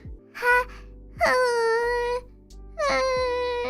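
A human voice imitates the small, cute noises of the cartoon character Chiikawa: three short, high, wailing 'ha' cries in a row, close and loud, separated by brief pauses.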